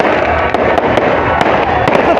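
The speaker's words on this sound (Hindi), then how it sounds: "इस तरफ आतिशबाजी का सिलसिला है, रंगारंग आतिशबाजी हो रही है" Dense, continuous fireworks crackle and pop at an Independence Day celebration in Shikarpur, Pakistan, with sharp bangs rising from a loud, steady roar of bursts and voices mixed in.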